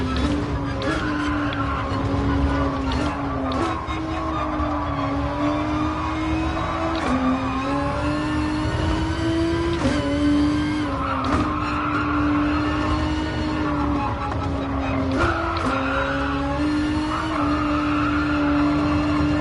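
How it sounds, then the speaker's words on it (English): Steady engine drone of a racing car in Gran Turismo Sport at Suzuka, with a continuous squeal from hard tyres rising and dipping as it corners, rhythmic and sustained throughout. "these hard tyres, you can hear them already"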